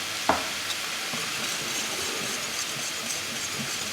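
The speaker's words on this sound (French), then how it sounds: "On mélange." A mushroom velouté with stock is stirred in a pot, giving a steady wet bubbling hiss with a sharp clink at the start and faint scrapes throughout.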